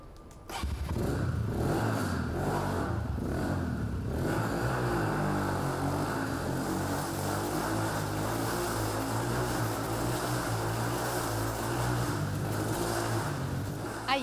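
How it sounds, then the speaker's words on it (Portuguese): A motorcycle engine roars steadily and loudly inside a circus Globe of Death, its note rising and falling as it circles continuously for the whole stretch, with no talking. "me desafiaram a ficar dentro do Globo da Morte enquanto uma moto gira"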